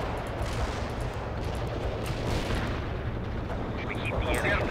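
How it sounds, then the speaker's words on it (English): Artillery strike in the video game World in Conflict, a continuous rumble of heavy shelling with repeated booming explosions blending into a dense, loud barrage. "Artillery strike successful."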